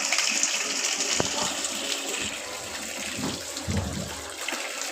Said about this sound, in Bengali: এই যে জল ভরছে একা একা